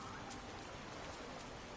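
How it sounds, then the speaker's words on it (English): Rain falls steadily in the cozy life-sim game Disney Dreamlight Valley, a soft, constant hiss of drops on surfaces with faint pattering, unbroken and quiet throughout. "Well, it's raining"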